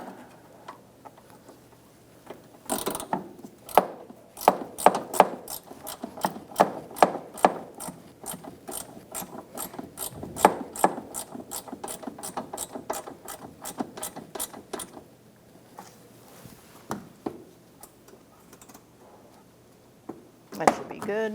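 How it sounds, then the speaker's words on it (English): A ratchet wrench clicks in rapid bursts of repeated pawl ticks while driving the bolts of a 2012-2018 Ford Focus windshield washer reservoir, close and crisp, with pauses and brief speech between strokes. "you can use your ratchet wrench over here"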